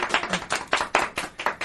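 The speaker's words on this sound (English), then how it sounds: "Claps." A few people clap during a radio show, a short run of about nine distinct, fairly close claps in a loose, even rhythm.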